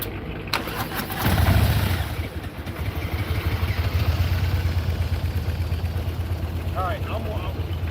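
A motorcycle engine starts and settles into a steady mid-pitched idle close by, with a brief louder rev near the start and outdoor background noise.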